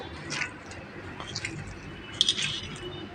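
Boiled potatoes mashed by hand for a potato and chili bharta, producing soft wet squishing and squelching pulses up close, quiet and irregular, with no voices.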